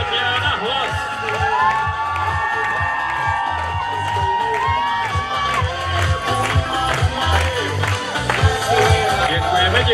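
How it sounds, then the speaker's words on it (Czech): Audience cheering and applauding at a live event, a busy, sustained crowd noise with shouts and whoops over a rhythmic low pulse, voices rising in bursts toward the end. "Tak jim zatleskáme"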